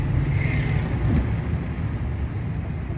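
A car driven on a road during a driving lesson, its steady engine and tyre rumble running loud and continuous with no talk over it.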